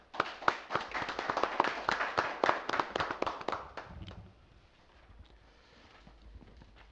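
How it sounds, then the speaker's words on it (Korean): Sparse audience at a metalworkers' union election policy debate claps in a quick scattered burst of distinct sharp claps that thins out and fades after about four seconds, leaving a quiet room. "양 후보 측에 뜨거운 격려 박수 부탁드리겠습니다"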